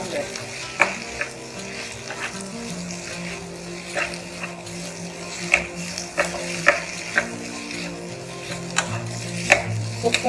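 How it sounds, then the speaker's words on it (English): Baby corn sautéing in sauce in a pan for an Indo-Chinese dish, with a steady sizzle and repeated sharp scrapes and clinks of stirring spread across the clip, no talking. "After adding the corn, we just saute everything together so that the sauce coats the corn well."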